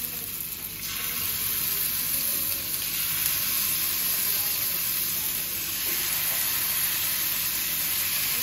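Chicken pieces frying in a pan over a low flame give a steady, close sizzle that hisses continuously throughout, with no talking.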